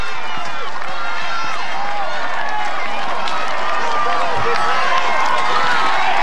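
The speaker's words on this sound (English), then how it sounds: "look at the crowd here at the top of this climb" A dense roadside crowd roars steadily at the top of a climb during stage 4 of the 2016 Tour de France, with sustained cheering, shouting and clapping that stays loud and continuous throughout.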